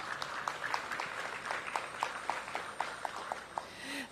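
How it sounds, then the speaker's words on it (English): An audience at a library construction milestone ceremony gives a round of applause, heard as a thin, scattered patter of claps with distinct individual hand strikes over a steady murmur. "Please give them a round of applause."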